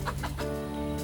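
Seven chickens cluck close by in quick, repeated low bursts over a steady background hum.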